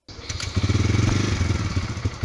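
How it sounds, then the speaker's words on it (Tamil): A Bajaj Freedom 125 CNG motorcycle engine starts up and runs at a close, steady idle, with an even, rapid thumping pulse and a light mechanical clatter on top. "ஸோ இதுதான் இன்ஜினோட சவுண்டு. இன்ஜின் நோட் சவுண்டு எப்படி இருக்குன்னு பாருங்கள்."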